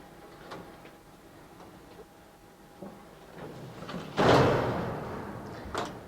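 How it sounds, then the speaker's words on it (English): A build cart for an HP Multi Jet Fusion 4200 printer rolls into its processing station, with scattered clicks and knocks, then a loud clunk of the cart seating or a door near the end, followed by a softer knock. "now we'll roll the build cart into the processing station"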